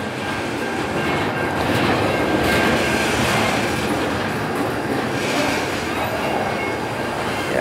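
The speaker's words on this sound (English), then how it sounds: "I see the cars going up across the crossing up there, so this train's getting close to the end" A Norfolk Southern freight train rumbles steadily past close by, with a continuous roar and a rhythmic clickety-clack from the wheels on the rails.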